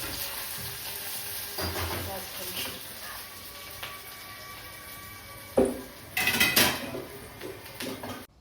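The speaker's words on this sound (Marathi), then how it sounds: "मी भाजीला फोडणी टाकत होती कारल्याच्या" Spices crackle in hot oil as a tempering for a bitter gourd (karela) vegetable dish, with a low steady sizzle, clinks of utensils, and a loud burst of spluttering near the end, while someone talks in the background.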